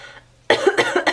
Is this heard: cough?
yes